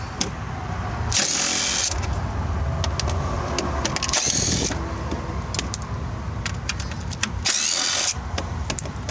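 Bolts being removed from the front bumper assembly of a 1991 Corvette salvage parts car: three loud bursts of a power driver whirring, with metallic clicks and tool clatter over a steady background hum.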